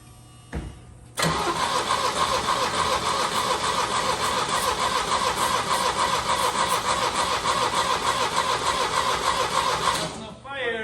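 Abandoned 1975 Chevy Vega Cosworth Twin Cam engine, unused for about 20 years, cranking on its starter in one long, loud, steady whirring burst of about nine seconds that cuts off abruptly, with brief voices around it.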